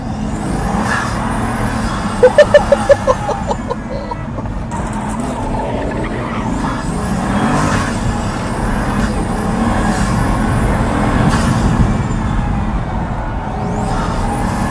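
A Pagani supercar driven fast, its engine a loud, sustained roar from inside the car that rises and falls with the throttle, with a brief burst of rapid clicks early on and a continuous rumble underneath.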